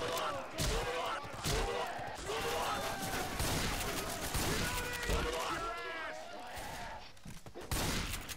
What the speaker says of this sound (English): Oh, wow, the shotgun has incredibly good range